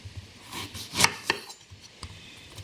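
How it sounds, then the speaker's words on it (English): A knife chops courgette and tenderstem broccoli on a board, giving a few crisp, irregular cuts that are close and moderately loud with quiet gaps between them. "So we're going to chop everything very small."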